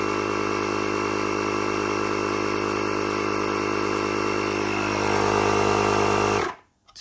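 A LOKITHOR JA400 portable air compressor pumps with a steady, loud, close mechanical drone and buzz that holds evenly, rises slightly near the end, then cuts off abruptly.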